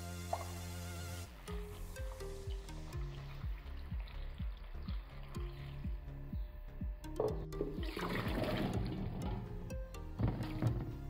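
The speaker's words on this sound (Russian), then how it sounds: "Заливаем холодной водой и оставляем на 3 часа." Cold water poured over walnuts in a bowl for walnut jam, a steady close splashing stream lasting several seconds, with some clinking and handling sounds around it.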